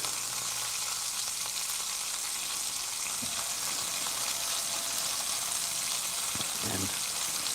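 Sausage and onions frying in butter in a skillet, giving a loud, steady, close-up sizzle that crackles without pause throughout, with a couple of faint knocks from utensils.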